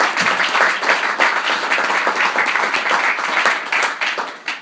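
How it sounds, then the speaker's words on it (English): An audience at a live radio vaudeville show gives a full round of applause, dense and loud continuous clapping from many hands that carries through and starts to taper at the very end. "So how about a round of applause for him?"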